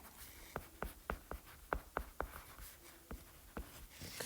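Chalk or marker tapping and scratching on a board during a lecture on heating and cooling of buildings, a series of sharp separate strokes in an uneven rhythm, fairly close, with no one talking.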